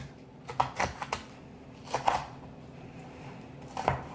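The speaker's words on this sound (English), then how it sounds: "We're gonna get to chopping so we can add it to our taters." Crispy cooked bacon chopped with a knife on a cutting board, a few quick clustered cuts at the start, another small burst in the middle and a single cut near the end, close and fairly quiet.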